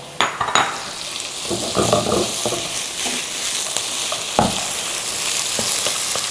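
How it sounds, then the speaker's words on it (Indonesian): Beef slices stir-frying in a wok over browned garlic, a loud steady sizzle with scraping stir strokes and clinks near the start, no talking. "Kita langsung hajar pakai si daging. Dagingnya masuk."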